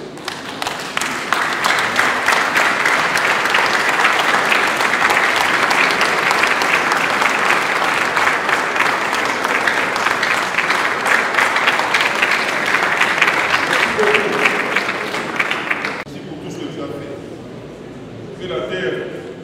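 A standing audience at a tribute gathering claps frantically in a sustained, dense roar of applause that fills most of the stretch, then drops off sharply near the end.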